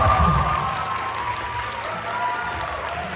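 A church congregation applauds at a sermon about prayer and the Virgin Mary. The clapping is steady, dense and fairly quiet, spread across the room, with faint crowd murmur underneath.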